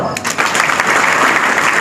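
A village audience claps in a brief, dense burst of applause at a felicitation honouring a local man selected as an assistant engineer in the state power transmission department. The clapping is loud and close and fills the whole moment.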